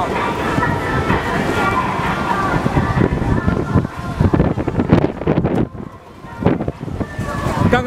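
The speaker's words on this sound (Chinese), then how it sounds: "刚刚那阵风有点大。" A strong gust of wind buffets the microphone outdoors as a mother and toddler play with a big ball, producing a loud, steady rumbling roar that dips briefly near the end. Voices can be heard under the wind.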